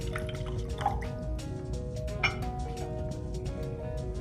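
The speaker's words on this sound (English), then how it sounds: "we'll begin by filling our beaker with roughly 100 mils of water." Water trickles and drips steadily into a glass beaker, filling to about 100 millilitres, with small splashes and a faint glassy clink, fairly close and quiet.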